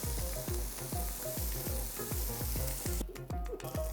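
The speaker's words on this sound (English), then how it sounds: "We got a couple of hot chops. So we're gonna put the fat side down first to render out" Dry-aged pork chops sear fat side down in a hot pan over medium-high heat, giving a steady close sizzle with regular scraping or stirring strokes about twice a second throughout.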